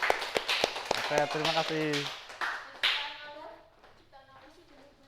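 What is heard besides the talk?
classroom applause for a student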